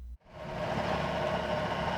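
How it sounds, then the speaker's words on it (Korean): A tractor engine roars loudly and steadily as it drives through a field of green onions, the rumble starting abruptly after a brief quiet moment and holding constant. "진도의 한 들녘에 트랙터 소리가 요란합니다"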